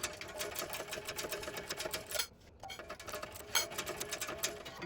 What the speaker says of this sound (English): we're going to stitch it at the recommended seam with the recommended seam allowance